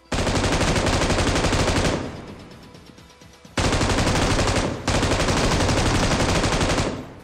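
Automatic gunfire rattles in PUBG Mobile in long, loud, rapid bursts, first a sustained burst, then a brief lull with quieter shots, then two more close, dense bursts with no talking.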